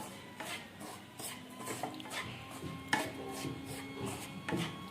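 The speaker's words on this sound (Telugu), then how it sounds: "స్టవ్ వెలిగించుకొని ఇట్లా మాడకుండా ఫ్రై చేసుకోవాలి" Leftover chapati pieces with dried fruit and jaggery are stirred and fried in a pan on the stove. Quiet, irregular scrapes and light metal clinks repeat close by, with no voices.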